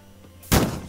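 Gunfire from enemy humans in the video game Starbound: one loud, sudden burst that lingers briefly, then trails off as a second shot starts at the very end.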